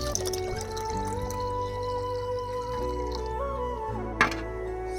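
Water trickles and pours into squeezed grapefruit juice, a continuous close liquid flow ending with one brief splash.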